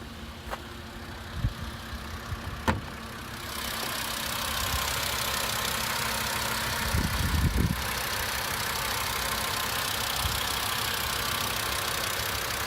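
A 2012 Volkswagen Jetta 2.5 SE with its 2.5-liter four-cylinder engine idles in a steady, even drone, with a few faint knocks early on and a brief louder swell midway.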